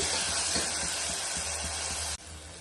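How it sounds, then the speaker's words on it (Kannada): Tomatoes fry with salt in a pan for a horse gram curry, giving a loud, constant hiss and sizzle that suddenly drops away near the end, leaving a quieter background. "ನಾನೀಗ ಸ್ವಲ್ಪ ಸಾಲ್ಟ್ ಹಾಕೊಂಡು ಚೆನ್ನಾಗಿ ಫ್ರೈ ಮಾಡ್ಕೊಳ್ತಾ ಇದ್ದೀನಿ ಟೊಮೆಟೊ ಸಾಫ್ಟ್ ಆಗೋವರೆಗೂ ಫ್ರೈ ಮಾಡ್ಕೊಂಡಿರಬೇಕು"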